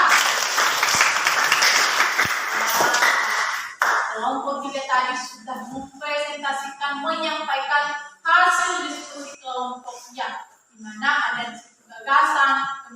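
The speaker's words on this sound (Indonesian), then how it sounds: "tepuk tangan buat kelompok 3" A classroom full of students claps for a presenting group, a few seconds of brisk, fairly loud applause that gives way to a teacher speaking.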